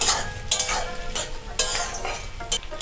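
Onions with a pinch of sugar frying in hot oil for a mrigel fish and Malabar spinach curry, stirred in a pan: crackling sizzle with several close, quick scraping strokes of a spatula, no speech.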